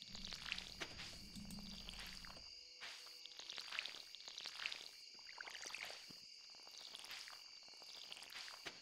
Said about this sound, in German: Trotzdem möchte ich meinen Mais gießen.